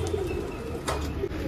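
Low, throaty cooing comes from a wild pigeon perched on an adjacent roof, one short steady phrase heard fairly close.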